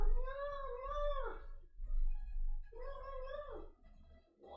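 A house cat gives two long, drawn-out meows close by, separated by a brief pause, with no voices.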